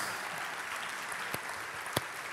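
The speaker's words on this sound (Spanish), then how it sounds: "¿Cuánto le aplauden a Dios?" A church congregation applauding during a Spanish-language sermon, a steady wash of many hands clapping throughout, with a couple of sharp, close, louder claps standing out from the crowd.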